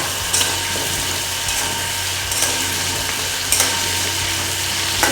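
Bhetki fish frying in hot oil in a pan over a gas flame, stirred now and then, giving a steady close sizzle with a few brief louder bursts and no talk.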